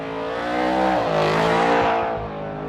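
A Formula Drift car in qualifying at Orlando swings through a sweeper into a transition, its engine roaring loud and close with sustained high revs, a brief dip, then climbing again, with a rough tire-smoke edge throughout.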